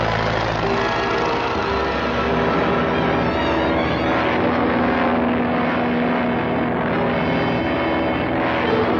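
A propeller airplane from a 1940 film drones loudly and steadily throughout, a close, rumbling engine and airscrew roar with no voices.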